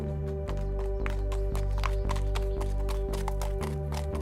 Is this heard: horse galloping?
yes